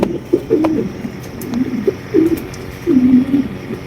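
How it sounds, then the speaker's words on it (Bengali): Mondain pigeons, including a black one, cooing close by in a loft, a series of soft rolling coos in irregular bursts with faint rustling between them. "এখানে রয়েছে আরো এক জোড়া মন্ডি কবুতর এটা হচ্ছে ব্ল্যাক মন্ডি"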